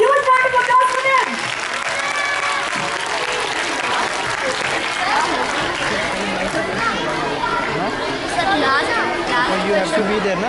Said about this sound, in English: So can we have a huge round of applause for them?